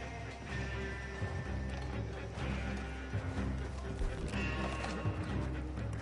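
Hooves clop rapidly and rhythmically as horses gallop in the video game Red Dead, with a horse whinnying amid busy background noise.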